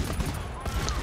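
Dense, rapid gunfire in the co-op shooter GTFO, a burst of close shots packed into one second with voices talking over it.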